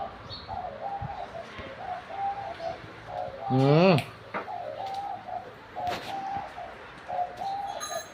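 Repeated soft dove coos rise and fall in a steady rhythm close by. Chirps and a brief louder warbling call break in, and a person murmurs once.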